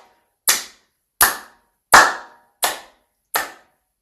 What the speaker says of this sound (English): Again, you can clap.